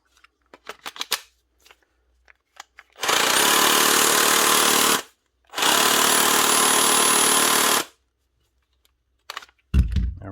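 A Bosch GST 18V-LI cordless jigsaw with a broken tool holder runs loud and close in two bursts of about two seconds each, separated by a short pause, with small clicks and handling knocks before and after.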